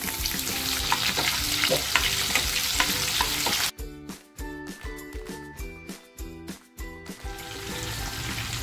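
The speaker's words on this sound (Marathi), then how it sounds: "आता जो कांदा घेतला होता ना तो कांदा टाकते।" Chopped onion drops into hot oil already crackling with whole spices for a homemade bajra pulao, giving a steady loud sizzle that turns into a rhythmic series of stirring scrapes and clinks against the pan.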